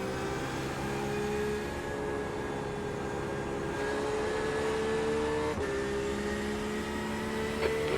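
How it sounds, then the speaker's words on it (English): Continuous race car engine drone in a racing video game, a Porsche in a B class race, with steady high whine and subtle pitch shifts as a faster car approaches; no talking. "There's a faster car approaching."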